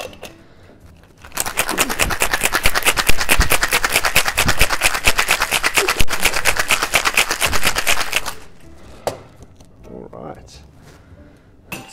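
Cocktail shaker with ice shaken hard for a daiquiri, a loud, fast rattling burst of ice lasting about seven seconds, then stopping abruptly before quieter handling sounds.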